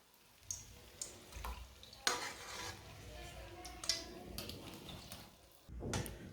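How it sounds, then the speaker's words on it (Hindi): Fried kachoris are lifted out of hot oil into a metal strainer, with sharp clinks and scrapes over a low, steady sizzle of frying oil. No speech. "सब कचौरियों को बाहर निकाल लेंगे। छन्नी में डाल लेते हैं"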